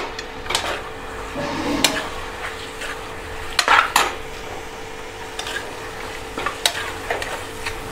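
Cleaned goat intestine (boti) with turmeric fries in a pan. A soft sizzle runs underneath while a utensil scrapes and clinks against the metal in irregular, sharp strokes, close by and without speech.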